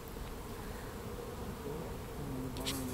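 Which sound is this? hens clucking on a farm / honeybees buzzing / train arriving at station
honeybees buzzing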